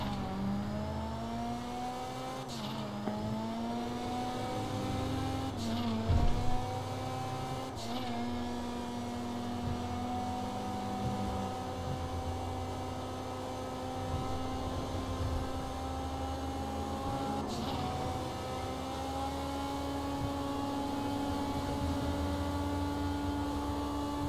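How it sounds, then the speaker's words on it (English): A car engine in the video game Grand Theft Auto, set in Los Santos, drones steadily for the whole stretch with a continuous mid-range hum, rising and dipping in pitch as the revs shift, and it is heard alone without talk. "It sounds like Mad Max's car, too."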